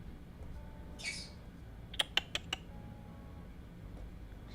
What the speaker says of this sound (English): the birds are talking